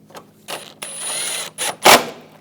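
Bolts on the front grille of a 2014–2018 GMC Sierra being tightened, producing a few short, close mechanical ratcheting bursts, with the last one the loudest.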